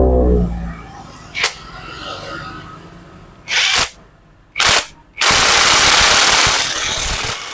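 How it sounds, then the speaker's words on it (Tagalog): A puller pulls the magneto off a motorcycle engine during an overhaul, with short bursts of loud rattling power-tool noise, a final sustained burst running to the end, over quieter workshop background. "gagamitan ko pala siya ng puller para matanggal yung magneto"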